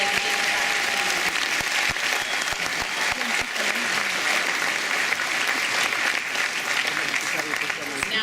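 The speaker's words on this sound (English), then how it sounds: "Let's have a round of applause for our retired" A large audience at a Skyline College commencement ceremony applauds a retiring automotive technology professor, the clapping dense, sustained and loud in a big reverberant space, with crowd murmur underneath.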